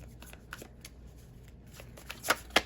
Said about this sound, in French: Je vais tirer encore quelques cartes pour un petit message pour la route.